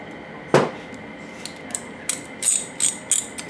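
A ratchet on a Yamaha R6 engine breaks a bolt loose with one sharp crack, followed by a quick series of close metallic clicks and taps.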